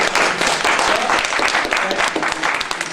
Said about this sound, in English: So let's give him some applause.